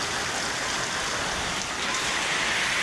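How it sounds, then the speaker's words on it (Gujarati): Heavy rain pours down in a dense, continuous hiss, loud and steady throughout with no pauses. "પહેલો વરસાદ આવો આવ્યો તો દાબીને પડે"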